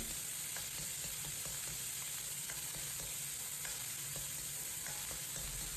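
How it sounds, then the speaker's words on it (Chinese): Ground beef stir-fried in rapeseed oil in a hot wok while cooking mapo tofu: a steady, close, loud sizzle runs throughout, with faint scrapes and ticks of stirring and no talk. "热锅凉油，放入准备好的牛肉末，先将牛肉末炒香炒酥"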